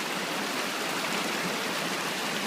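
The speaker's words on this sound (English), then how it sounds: "This is where the creek merges with the Colorado." A creek pours into the fast-flowing Colorado River deep in the Grand Canyon near Phantom Ranch, producing a steady, loud, unbroken hiss of rushing water with no voices.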